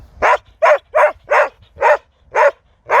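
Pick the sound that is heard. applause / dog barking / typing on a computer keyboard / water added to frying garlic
dog barking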